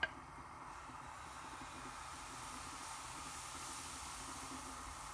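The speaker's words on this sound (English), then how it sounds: "It's got a nice sizzle to it as it goes on the pan." Spelt and buckwheat pancake batter sizzling on a hot pan: a steady, soft broadband hiss that holds evenly from a brief opening tap to the end, with no voices.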